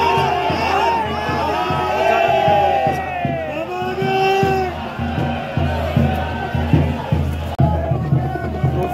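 A large, loud crowd of devotees surges around the Kedarnath doli procession, with continuous chanting, shouts and whoops mixing into a dense roar of voices throughout.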